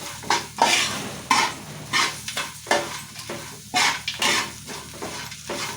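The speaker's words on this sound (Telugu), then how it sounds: "అన్నీ బాగా కలుపుకోండి" Bitter gourd fry being stirred in a pan with chilli powder and coriander: repeated scraping strokes of a utensil over a sizzling base in an uneven rhythm, close and clear, with no voices.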